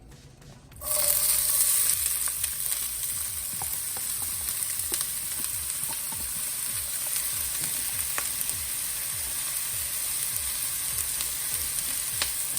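A cup of onion drops into shimmering grapeseed oil heated on medium-high for shepherd's pie. A loud sizzle bursts in after a short quiet start and holds as steady, close frying with rhythmic stirring scrapes throughout.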